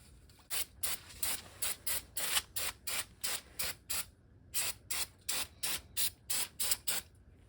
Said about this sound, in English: we're going to use the brake cleaner